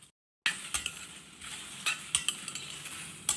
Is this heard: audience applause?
no